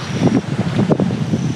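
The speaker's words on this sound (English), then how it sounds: "Very windy though." Strong wind buffeting the microphone on a coastal walk to the beach at Burrum Point, gusty rumbling bursts close up with no talk.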